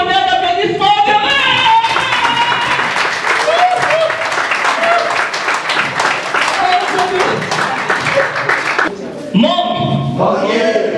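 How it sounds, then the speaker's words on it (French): A comedy show audience breaks into clapping that swells into a dense wash of applause, mixed with voices, before fading as speech resumes. "recevez sous un tonnerre d'applaudissements"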